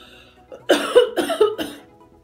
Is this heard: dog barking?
no